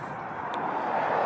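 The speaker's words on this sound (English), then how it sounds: "relentless traffic on the A5, coming both ways" Relentless road traffic on the A5, vehicles passing both ways, a steady loud broadband roar that builds slightly over the moment, continuous and close with no pauses.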